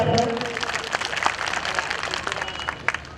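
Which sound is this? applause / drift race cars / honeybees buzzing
applause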